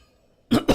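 A person who is sick coughs twice in quick succession after near silence, close and fairly loud.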